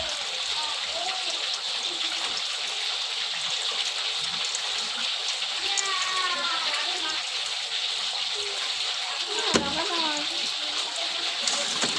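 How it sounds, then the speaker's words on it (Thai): Water running steadily as something is rinsed, a continuous moderate gush with some splashing, close by, while a person speaks over it. "แล้วก็จะเอามาล้างน้ำก่อน"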